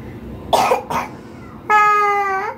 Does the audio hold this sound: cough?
yes